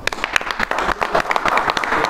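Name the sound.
audience applause at literary gathering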